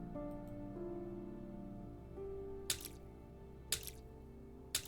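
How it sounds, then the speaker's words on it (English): Wet, splashing footsteps in the horror game Radio Signal: three evenly spaced squelching steps cut through a steady droning ambient score. "Your footsteps sound wet."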